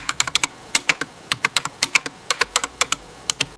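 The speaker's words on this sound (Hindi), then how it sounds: "पहला जो साउंड है वो है टाइपिंग साउंड" Keyboard typing, an AI-generated sound effect: crisp, close key clicks in quick irregular bursts with brief pauses between runs, heard alone without any talk.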